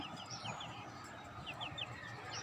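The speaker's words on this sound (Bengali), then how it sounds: "ফার্মি মুরগি আর টাইগার মুরগি বাচ্চা" Young broiler and tiger chickens in a rooftop garden cluck and peep in short, repeated bursts over a steady background hiss, fairly faint and with no talking.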